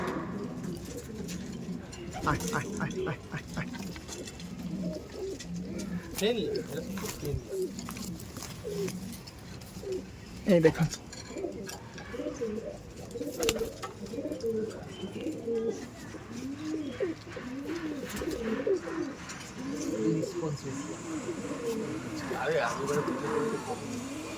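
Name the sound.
pigeons cooing in a loft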